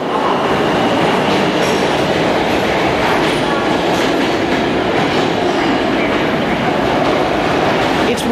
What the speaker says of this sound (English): The BBC's Michelle Fleury took the subway in New York to see for herself just how quiet it is